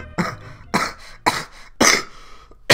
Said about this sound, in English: Sorry, it's cough there.